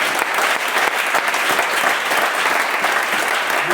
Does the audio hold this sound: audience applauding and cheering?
yes